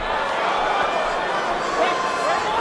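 A boxing arena crowd keeps up a steady, dense roar of cheering and chatter after a body shot in a Brian Magee versus Lucian Bute fight, sustained and even throughout with no clear peaks.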